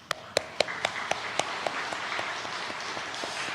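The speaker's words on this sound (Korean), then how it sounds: "우리 집사님 잠시 일어나 주시면 우리 박수로" A church congregation applauds during a Sunday service. The claps start in a loose, fairly even rhythm, then thin out and fade over a few seconds.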